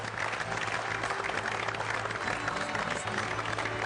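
A television studio audience on a New Year's special of a game show applauds steadily as mentalist Enis Talas comes on stage, a dense, even clapping that carries at moderate volume throughout.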